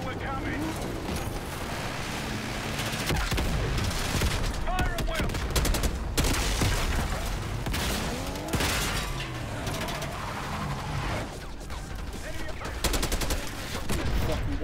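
Sustained, loud gunfire in the Call of Duty Black Ops 6 campaign during a SCUD launcher mission, dense bursts and fusillades rolling through the whole stretch with explosions and battle noise, voices shouting now and then beneath the shooting.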